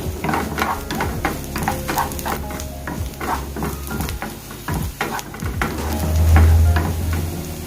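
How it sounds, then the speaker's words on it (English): Garlic and softened onion sautéing in a pan for vegan rasta pasta, giving a continuous sizzle with repeated stirring scrapes and clinks, steady and close, with no speech. "Drop in the garlic now."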